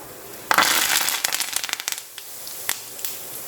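Whole cumin, round red chilies and curry leaves sizzle in hot oil, giving sharp, rapid crackles and pops that burst loudly at first, then thin out into scattered snaps over a low hiss.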